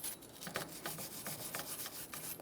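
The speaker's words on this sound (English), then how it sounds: "So use a wire brush or something like it." Wire brush scrubbing the groove of a rear brake drum on a 2000-2007 Ford Taurus, heard as quiet, repeated rasping strokes in a steady back-and-forth rhythm, close and alone.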